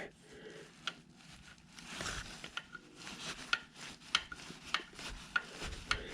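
Pliers working loose a part while fitting an engine guard to a 2020 Harley-Davidson Heritage FLHC, a quiet rubbing and scraping of metal with several sharp clicks and snaps toward the end, close by with no talk.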